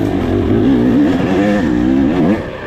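A four-stroke dirt bike engine revs up close and loud, its pitch wavering up and down before easing off at the end.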